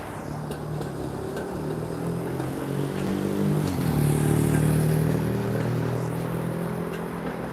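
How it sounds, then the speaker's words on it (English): A motorcycle engine rises and falls as it passes nearby on a Toronto street, a steady drone with a brief swell in the middle, no voices. "Yes, I see that's a motorcycle."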